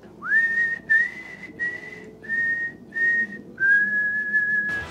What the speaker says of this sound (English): I was more of a whistler.